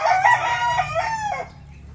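A gamecock rooster crows once nearby, a loud drawn-out cock-a-doodle-doo lasting over a second before cutting off into quiet.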